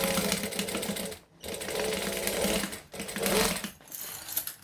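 A sewing machine stitches down fabric on a sewing project in steady whirring runs with short pauses between them, close and fairly loud, and no one speaks.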